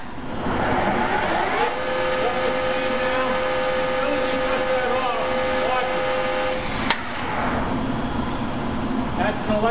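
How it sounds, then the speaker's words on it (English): A metal lathe spindle runs with a steady machine whine and hum under talk, then its electric brake brings it to a quick stop, leaving a brief sharp click and lingering shop noise. "That's an electric brake in there. Automatically stops the spindle from turning."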